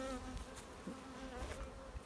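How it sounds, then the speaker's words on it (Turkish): Honey bees buzzing after being shaken off a breeding frame, a close, steady droning hum with some wavering pitch as individual bees pass. "Şu an bir damızlıktan da arı silkeledim."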